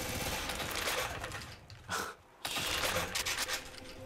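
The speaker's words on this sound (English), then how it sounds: "Wow, that's a loud reload." A loud mechanical reload clatters in Black Ops 3 custom zombies, a burst of metallic clicks and rasping slides with a brief pause in the middle.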